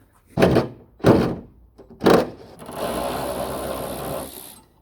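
Loosening a 10mm bolt on a car front end: three sharp ratcheting or thunking bursts in quick succession, followed by a longer steady mechanical whirr or spin of the tool.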